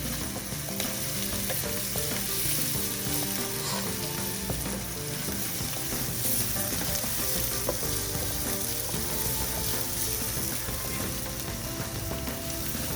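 A tadka of dried fenugreek leaves sizzles loudly and steadily in hot oil for Punjabi urad and rajma dal, with continuous crackling and occasional stirring clinks.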